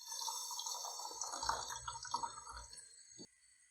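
Hot water pours while potatoes for aloo tikki are being boiled, a continuous splashing trickle with bubbling and dripping that thins out and stops near the end.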